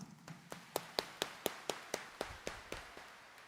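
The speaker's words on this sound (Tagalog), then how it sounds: "iparinig natin sa Kanya ang mas malakas nating palakpak" A church congregation claps in a steady rhythm, about a dozen sharp, evenly spaced claps heard fairly faint and a little distant in a quiet hall.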